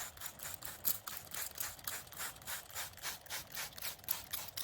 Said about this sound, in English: take the spray bottle and just get them nice and moist on top